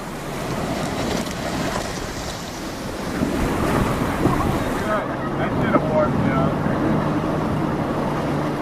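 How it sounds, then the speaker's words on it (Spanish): Rapids of the Colorado River in the Upper Granite Gorge of the Grand Canyon, a steady roaring rush of whitewater with wind buffeting the microphone, loud and continuous, easing slightly partway through. "Los rápidos de la Upper Granite Gorge, uno de los más peligrosos del cañón."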